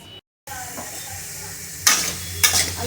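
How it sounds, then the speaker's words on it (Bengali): Potatoes fry in a pan for chowmein, a steady sizzle with a couple of sharper bursts of hissing and stirring scrapes near the end, close and moderately loud, with no one speaking. "আলুটা প্রায় ভাজা ভাজা হয়ে এসেছে।"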